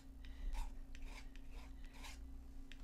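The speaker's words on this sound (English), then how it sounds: "So you can hear that knife actually scraping." A palette knife scrapes paint across watercolor paper in a series of short, faint rasping strokes over a low steady hum.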